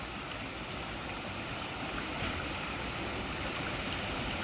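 A river flows beside its bank in Cherrapunji as a steady, broad rush of water, close and constant, with no voices over it.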